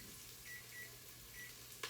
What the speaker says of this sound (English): My timer went off. And that's for what's in the oven.